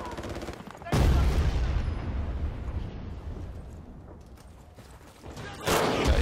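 Gunfire and blasts in the shooter game Medal of Honor 2010, with a loud burst near the start that rumbles and decays into a long fading tail, then another loud hit near the end.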